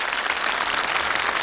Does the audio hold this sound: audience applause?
yes